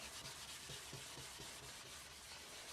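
A shellac wash coat is hand-rubbed onto a guitar body, a soft, continuous faint rubbing with light rhythmic strokes and no talk.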